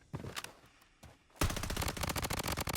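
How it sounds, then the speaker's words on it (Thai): Rapid automatic gunfire from a KAG-6 rifle in the shooter game Blood Strike bursts in loud and close, after a quieter stretch of scattered faint shots and clicks. "เดี๋ยวผมยิงเป็นชุด"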